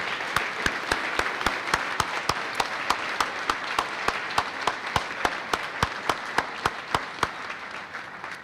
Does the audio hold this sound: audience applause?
yes